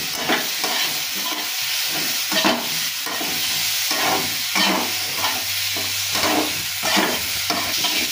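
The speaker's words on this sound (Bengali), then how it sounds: "তো হলুদ আর নুন দেওয়ার পর একটু ভালো করে নাড়িয়ে নিতে হবে।" Red lentils with salt and turmeric being stirred in a hot pan: loud close sizzling with regular scraping strokes of a spatula, steady rhythm, no speech.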